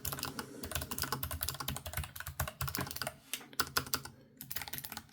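Fast, continuous typing on an ROG Falchion RX low-profile mechanical keyboard, close up: a dense stream of crisp key clicks and clacks with brief pauses, no talking.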